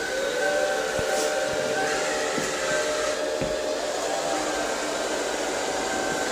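Infinuvo Hovo wet/dry mop robot vacuum cleaning around a living room, giving a steady, loud, continuous whirring hum with a faint whine that holds at a constant level throughout.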